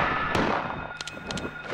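Gunshots in the horror video game Silent Hill ring out as sharp, separate cracks: one early, then a cluster of three or four close together in the second half, over a low background rumble.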